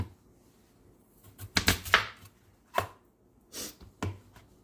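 A knife cuts potatoes into even pieces on a cutting board in a home kitchen, giving a handful of sharp, close chopping taps spaced irregularly between quiet pauses.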